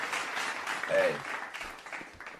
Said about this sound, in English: Give myself a round of applause.